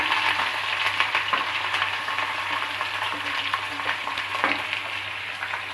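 Onions sizzle and crackle steadily in a hot pan for a Bengali mustard fish curry, a continuous close frying hiss with occasional stirring scrapes.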